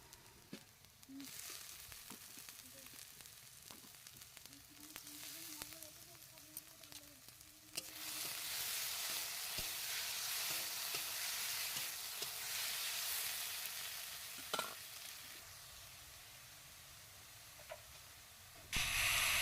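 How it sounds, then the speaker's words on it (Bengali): Chopped tomato sizzles and fries on onion paste in a pan while being stirred, a steady broadband hiss that swells louder midway and holds, with occasional scrapes and clinks; no voices. "এখন টমেটো কুচিটা দিয়ে দেবো এই পেঁয়াজ বাটার ওপরে, দিয়ে ভালো করে আমি নাড়তে থাকবো"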